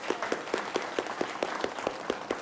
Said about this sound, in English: give Cindy a round of applause